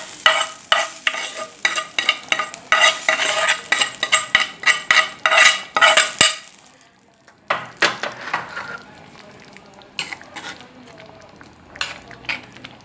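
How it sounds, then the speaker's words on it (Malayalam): Rapid rhythmic scraping and clinking of a spoon stirring in a pan, then a pause followed by sizzling and scattered clinks as a mustard seed tempering is poured into curry. "കടുക് പൊട്ടിച്ചെല്ലാം ഒഴിച്ചു"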